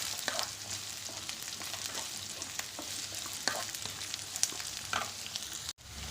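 Beans, carrots and green chillies fry in a pan for vegetable stew as they are stirred, a low continuous sizzle with scattered spoon scrapes and taps, fairly quiet and close.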